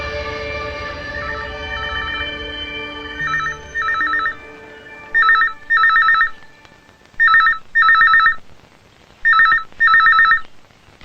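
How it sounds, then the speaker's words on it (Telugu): A telephone rings loudly and nearby in repeated double bursts of electronic trills, each pair separated by short pauses, after a fading stretch of background music. "ఫోన్ రింగ్ అవుతుంది"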